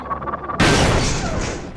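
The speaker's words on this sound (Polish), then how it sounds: "I teraz otrzymasz ode mnie strzał w wieżyczkę." A sudden loud blast as a shot strikes a turret in Half-Life: Source, following quieter game sounds, with the crash decaying over about a second.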